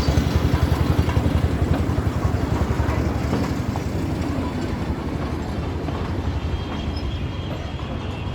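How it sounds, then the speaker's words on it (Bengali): A toy train at the Howrah rail museum rumbles along its track with a fast, regular engine-like chugging that stays loud and steady throughout, with no speech. "এই টয় ট্রেন আসছে"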